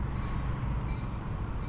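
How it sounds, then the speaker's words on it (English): Metra commuter train idling or rolling at the station in downtown Mount Prospect, a steady low rumble with broadband rail noise, moderately distant and continuous with no talk. "looking at a Metra train that will take you downtown in about 33 minutes at"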